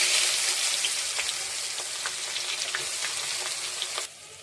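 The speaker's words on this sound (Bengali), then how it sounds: "এবার আলু ভাজা তেলের ভেতরে আমি 2টো তেজপাতা আর পেঁয়াজ কুচিগুলো ছেড়ে দেবো।" Bay leaves and chopped onion hit hot oil left from frying potatoes for a mutton curry, giving a loud, steady crackling sizzle with scattered pops that drops off sharply near the end.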